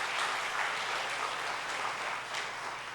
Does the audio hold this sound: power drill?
no